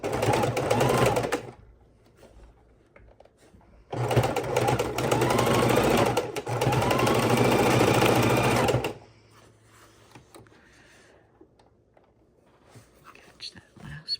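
Sewing machine running a straight stitch of length 3 on a paper mixed-media junk journal cover, two steady whirring bursts separated by a pause, then quiet handling noises.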